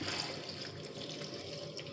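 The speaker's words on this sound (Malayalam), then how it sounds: "കുറച്ച് വെള്ളം കൂടി ഒഴിച്ച് കൊടുക്കാം" Water streams steadily into a clay cooking pot of curry, a continuous splashing pour that stays at an even level for the whole stretch.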